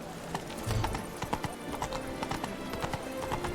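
A horse's hooves clip-clop at a steady walking rhythm in the video game Witcher 3, close and clear, with a low rumble and faint speech beneath.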